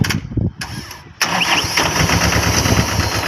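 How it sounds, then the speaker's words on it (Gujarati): A tractor engine cranks in short bursts, then catches and settles into a loud, steady rumbling idle close by on a farm. "અનંતભાઈ ચાલુ કરે ટ્રેક્ટર."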